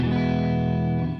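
An electric guitar through a Mooer Black Truck pedal with every control at 12 o'clock rings out as one sustained, distorted chord, thick and steady, close and alone.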